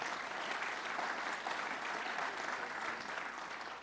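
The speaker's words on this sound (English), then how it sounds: "Give him a round of applause." Audience at a governor's event in Rockland County applauding an assemblyman, a steady wash of clapping that holds for several seconds.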